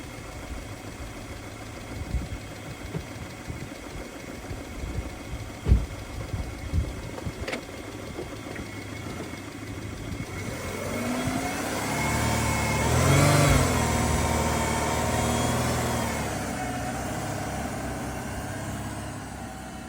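Subaru Liberty wagon engine in 40-degree heat, first a few scattered clunks and cranking attempts, then catching and running with a swelling rev and rough idle, fairly close and without talk.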